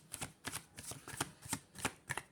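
Tarot or oracle cards shuffled and drawn during a love reading, a run of crisp riffling flutters in quick bursts, close and fairly soft, with no talk.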